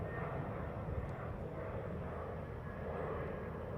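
An airplane departing from Heathrow runway 09R, a steady distant engine roar that stays fairly faint throughout, with no voices over it.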